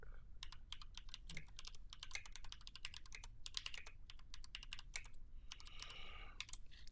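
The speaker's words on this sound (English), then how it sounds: "we're going to type another comment here" Someone types a comment on a computer keyboard, a quiet, rapid patter of keystrokes in irregular bursts with brief pauses between words.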